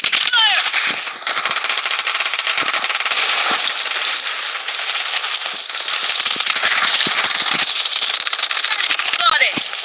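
Sustained automatic gunfire in a battle royale video game, with rapid bursts and scattered shots running almost the whole time, loud and dense, with occasional brief game voice lines.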